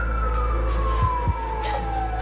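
An ambulance siren sweeps down slowly in pitch as it passes, a steady wailing tone over low road rumble with a couple of dull thumps partway through.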